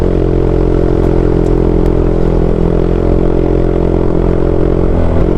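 A Honda Click 125i V3 scooter engine running steadily while riding on a rural road in San Pablo, Laguna, a loud, constant low hum with slight clatter and no pause.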